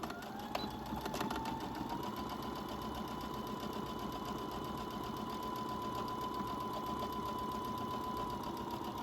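Sewing machine stitching the flap of a baby clutch, a continuous close motor hum with a rapid needle chatter running steadily, and a few clicks at the start.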